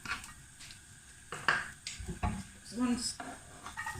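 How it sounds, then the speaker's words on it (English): Utensils clink and scrape against a frying pan as garlic fries in a soft background sizzle, with irregular knocks and stirring sounds close by. "So we're going to add the garlic to the frying pan."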